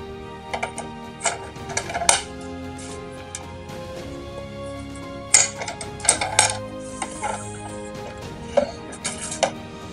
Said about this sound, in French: Voici donc cette fameuse malle et nous allons ensemble l'ouvrir